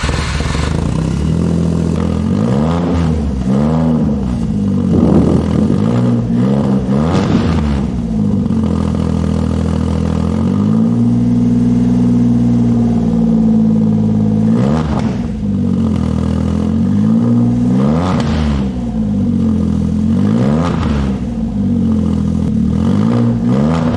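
A Smart car engine fitted with a new muffler revs hard again and again, close and loud, each rise settling back to a rumbling idle between bursts.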